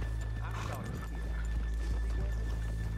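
Horses whinny and their hooves clop in the Red Dead Redemption 2 video game, a short, fairly quiet burst over a low rumbling background, with some voices mixed in.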